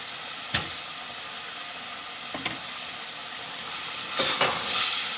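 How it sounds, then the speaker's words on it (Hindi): Soft chickpeas, soaked and boiled with soda, about a quarter kilo, tipped into a pan for murgh cholay: a few scattered soft thuds and clatters, then a rising sizzle near the end, with no talking. "1 पाव के करीब हम इसमें छोले डालेंगे।"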